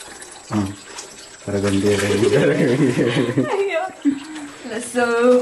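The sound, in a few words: water poured into a drum for soaking mushroom substrate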